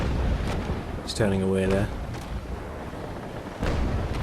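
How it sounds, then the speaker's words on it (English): Ship cannons fire single shots in the Naval Action video game, with deep booms thudding at intervals over steady sea and wind ambience while someone speaks briefly. "I'm firing one shot at a time, just trying to make sure every shot hits the mast"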